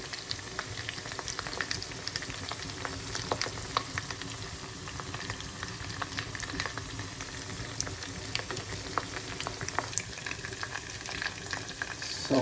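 Food fries in a pan in a home kitchen, giving a continuous dense crackle and spattering sizzle at even volume throughout, without voices.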